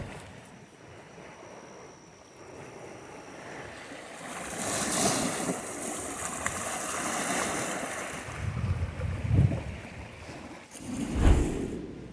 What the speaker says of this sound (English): the sound of the water is nice here